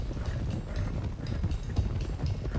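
Horses' hooves clip-clopping in Red Dead Redemption 2, a steady rhythmic trot of several horses heard close and fairly loud over a low rumbling background.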